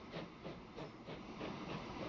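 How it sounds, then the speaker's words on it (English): An 1851-era steam train sets off in Transport Fever 2, with rhythmic chuffing puffs of steam and a rolling hiss repeating evenly, moderately loud and with no talk. "even though this train's now going to set off on its merry way."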